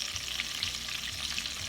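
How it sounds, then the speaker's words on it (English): Bacon fat frying in a pan while preparing poke sallet gives a steady crackling sizzle, close and continuous, with no talking. "I'm frying the white meat, the bacon fat"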